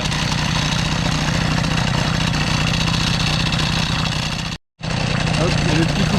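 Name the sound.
Peugeot 103 moped engine with Airsal 65cc kit revving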